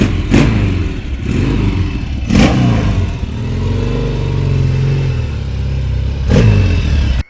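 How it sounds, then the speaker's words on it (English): Norton motorcycle engine revving up and down in several bursts, loud and close, with a steady idle rumble between the sharper throttle blips and no talk over it. "Enjoy the Norton motorcycle."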